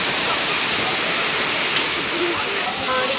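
Sabunçayı waterfall dropping about 10 metres, a steady, loud, broadband rushing roar that fills the scene without pause, with faint bits of other sound under the continuous wash of falling water.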